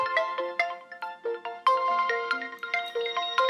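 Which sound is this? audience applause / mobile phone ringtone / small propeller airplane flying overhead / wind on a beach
mobile phone ringtone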